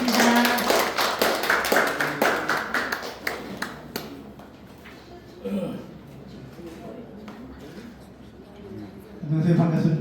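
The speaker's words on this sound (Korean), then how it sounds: "큰 박수로 맞이해 주시기 바라겠습니다" An audience applauds to welcome a company chairman at a corporate event, a loud burst of dense clapping that fades out, followed by more scattered clapping and a voice speaking.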